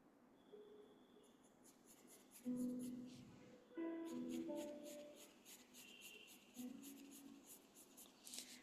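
Pencil drawing flowers on paper: soft scratchy strokes and rubbing of graphite, close and quiet, in uneven bursts with short pauses.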